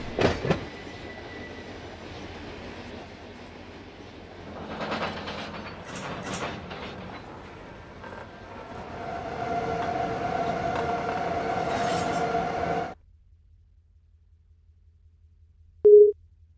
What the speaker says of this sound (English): After the train comes to a safety stop